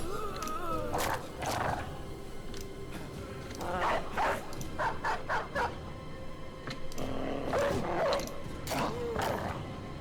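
Dogs bark, yelp and whimper amid a chaotic video game battle against zombies, repeated sharp bursts mixed with rustling clatter and a person's voice underneath.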